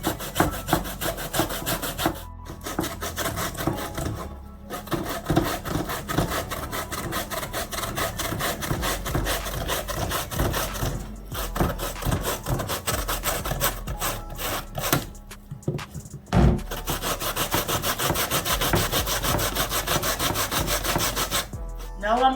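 Soaked cassava (yuca) being grated by hand on a grater, giving continuous rough rasping strokes in steady rhythm, close and fairly loud, with only a few brief pauses.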